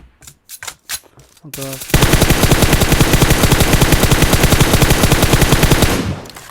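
PUBG gunfire: after a few light clicks, a loud, sustained burst of rapid automatic weapon fire rattles on steadily for about four seconds, then cuts off.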